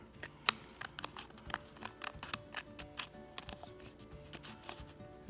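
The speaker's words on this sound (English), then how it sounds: "with my little fine scissors here, it lets me follow that edge of that box really, really closely." Small fine scissors trim along a cardstock matchbox edge in quick, close, crisp snips, an irregular series of sharp clicks over quiet background.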